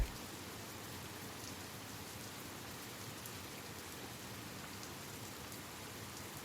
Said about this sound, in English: Once it started raining, it just wouldn't stop.